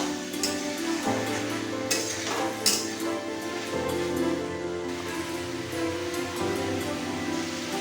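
Pumpkin and prawns stirred in a pan on the stove, giving a soft continuous sizzle with intermittent scraping and shuffling as the pieces are turned, fairly faint and close.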